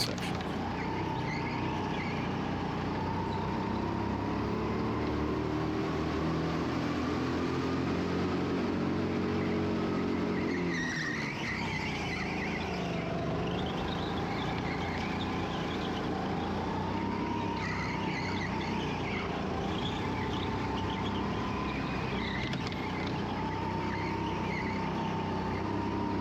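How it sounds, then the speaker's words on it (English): Racing car engine at Xtreme Zone holds a steady, loud drone with a brief dip around mid-lap as the throttle is eased slightly through the inside section, then returns to a sustained roar. "You can hear where the throttle came off"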